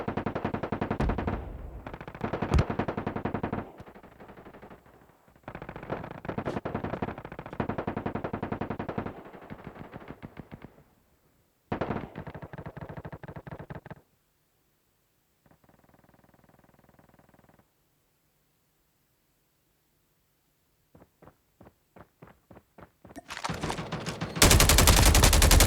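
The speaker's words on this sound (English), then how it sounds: "And with a machine gun as well, from up high, when they get close, you can just let them have it." Machine gun fire in the mobile shooter Call of Duty Mobile, heard as loud, sustained automatic bursts with short gaps, a quieter patch of distant shots, then a final heavy barrage.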